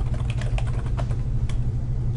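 Fingers tap quickly across a computer keyboard in an irregular run of close, crisp clicks over a steady low hum, with no voices.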